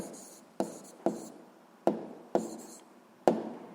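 Pen strokes on paper while working a physics exercise, a series of about six distinct scratchy strokes, each starting sharply and trailing off, close and fairly quiet with no talking.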